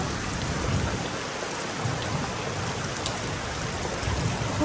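Steady rain pours down outside a home during a storm that has knocked out the power. A dense, even hiss of falling drops continues throughout with no voices.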